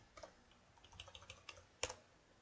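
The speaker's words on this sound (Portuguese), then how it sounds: "Vou digitar apenas um 15 aqui." Quiet computer keyboard typing while entering data in a DB2 database table: a short run of soft, irregular key taps followed by a sharper cluster of clicks near the end, close and alone.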